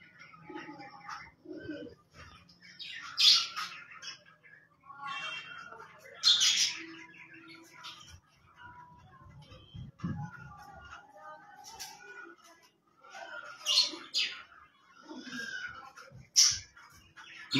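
Rare fancier pigeons on a rooftop, giving a few scattered calls and chirps spaced across a quiet background, with faint voices and low noise in between.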